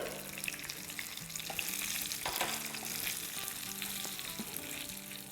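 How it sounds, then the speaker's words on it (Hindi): Curry leaves and red chili powder temper in very hot oil for a dahi bhalla topping, a soft, steady sizzle and crackle heard close by without talk. "तेल इतना गर्मा गर्म है। साथ ही इसमें डालेंगे आधा टीस्पून लाल मिर्चों का पाउडर"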